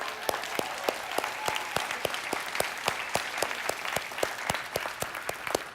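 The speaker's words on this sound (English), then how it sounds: "That one intention deserves a round of applause for everybody here" An audience at an on-stage presentation claps in a steady pattern, the crisp individual claps standing out clearly and evenly spaced over a softer wash of applause from the room.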